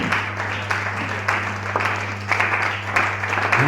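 A church congregation applauds during a worship service, with dense, continuous clapping throughout the clip over a steady low electrical hum.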